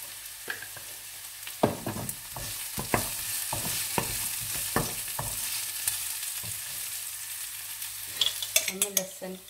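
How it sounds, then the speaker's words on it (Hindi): Cumin seeds sizzle in hot oil in a home kitchen, a steady hiss broken by repeated sharp scrapes and clicks of a spoon stirring in the pan, close and moderately loud with no talking. "थोड़ा सा जीरा डालूंगी"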